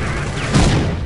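Gunfire in S.T.A.L.K.E.R.: Shadow of Chernobyl, a short burst of distant shots and a dull boom, with a helicopter chasing the player amid the chaos.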